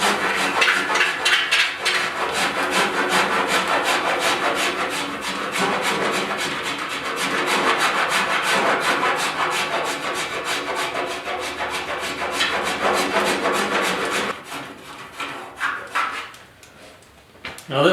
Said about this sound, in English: Let's give her a light file.